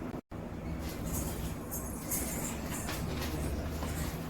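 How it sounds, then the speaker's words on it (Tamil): A vehicle rolls up outside, heard as a steady, moderately faint rumble with a low hum that runs through the whole stretch after a brief dropout near the start, with no voices. "வண்டி சவுண்ட் கேக்குது, வந்துட்டாங்க பாப்போம்."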